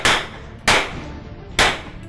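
Three sharp, loud gunshots ring out at a police training shooting range, each a single crack with a brief decaying tail, spaced unevenly about half a second to a second apart, with no talk.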